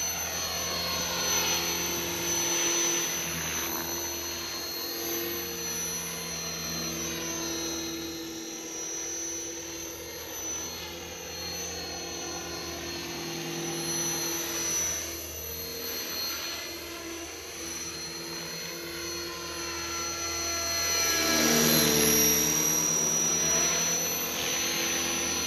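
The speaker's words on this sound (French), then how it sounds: "tu poses vite l'hélico où t'es et puis tu peux repartir quoi" Helicopter rotor and turbine drone in a flight simulator game, steady and continuous with a slow swell and fade, rising louder near the end.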